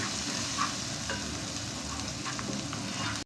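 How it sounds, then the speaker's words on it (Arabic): Garlic and chicken stroganoff ingredients stirred in a hot frying pan, giving a continuous loud sizzle with faint scraping of the utensil, close and steady throughout, no talking. "راح اقلب كل المكونات"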